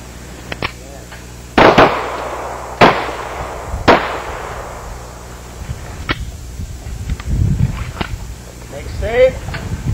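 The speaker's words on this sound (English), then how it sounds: "Commence fire." Handguns firing on an outdoor shooting range during training, several sharp loud shots spaced a second or so apart with reverberant tails, then quieter scattered reports and low rumble; no talk over the shots.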